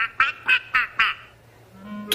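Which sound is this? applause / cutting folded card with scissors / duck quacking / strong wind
duck quacking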